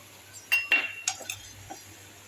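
Pumpkin seeds stirred in a pan make a few close, light clinks and scrapes of spoon against metal, scattered in a brief quiet burst with no voice.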